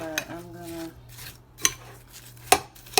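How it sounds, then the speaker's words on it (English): Spoon scraping and clinking through hard, over-frozen nice cream mixed with walnuts and chocolate chips in a bowl, a few separate sharp clinks and rubs close by, with a low hum underneath. "I'm just gonna stir it up and make it get creamy"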